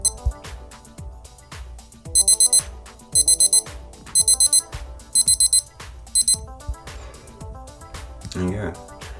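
A Casio W-26B digital watch timer sounds its alarm about two seconds in: bright, rapid electronic beeps in short bursts of four or five, repeated about once a second over quieter background sound.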